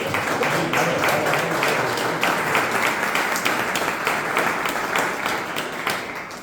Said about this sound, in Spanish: si quieren aplaudir